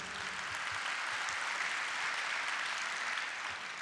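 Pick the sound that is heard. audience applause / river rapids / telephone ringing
audience applause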